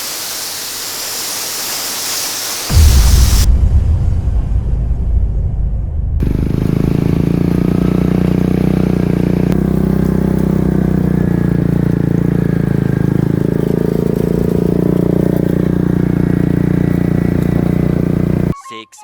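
A quad bike engine runs steadily at close range on a cold evening outing, a loud continuous low rumble with a rough mechanical drone after a brief quieter start.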